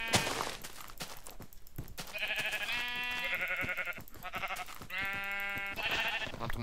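Sheep in Minecraft bleat repeatedly in a wavering, buzzy voice, several calls in a row filling the scene, with faint game clicks and bumps underneath.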